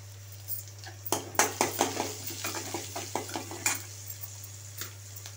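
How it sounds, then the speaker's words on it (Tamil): Onion, chili and curry leaves being tempered in a pan, with a rapid series of metal spoon clinks and scrapes against the pan over a low steady hum, close and fairly quiet. "வெங்காயம் மிளகாய் கருவேப்பிலை எல்லாம் போட்டு தாளிச்சுக்கலாங்க."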